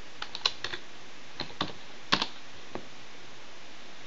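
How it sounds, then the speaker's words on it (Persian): Slow, sparse one-finger typing on a computer keyboard, a handful of separate key clicks spaced irregularly with pauses between them, close and fairly quiet, with no talking. "من هنوز یه انگشتی تایپ میکنم."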